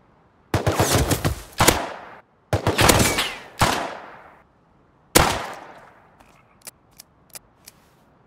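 Automatic gunfire in the survival game Rust: three long, loud, close bursts of rapid shots, followed by a few scattered single cracks. No talking.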